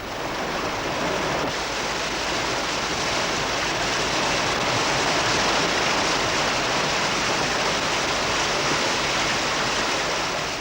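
Wild water river rapids on a narrow, twisting canoe racing course roar in a constant, dense rush of broadband noise, loud and unbroken for the whole stretch.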